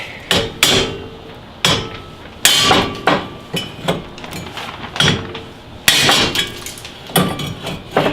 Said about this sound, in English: You need a good solid whack.